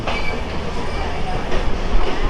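The Drutojan Express, a Bangladeshi passenger train, rumbles loudly from inside the carriage with a steady clickety-clack of wheels on rails and dense broadband rattle throughout.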